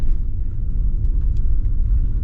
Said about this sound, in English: This engine is impressive. It is so smooth.